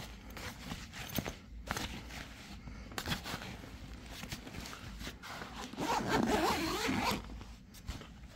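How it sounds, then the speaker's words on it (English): A zipper on the side pocket of a Nomatic travel bag is pulled shut in several quick rasping strokes, close up, with a few soft handling rustles and no talking. "Okay, so I've closed the side zip."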